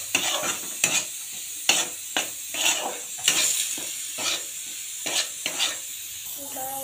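Wheat flour dry-roasting in a pan for sweet wheat-flour sheera, with repeated scraping stir strokes and utensil clinks in a steady, close rhythm, plus a brief tonal sound near the end; no talking.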